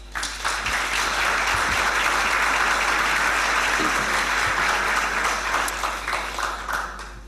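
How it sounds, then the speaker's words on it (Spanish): Sustained applause from a large conference audience fills the hall, loud and steady throughout with a slight taper at the end. "Un fuerte aplauso."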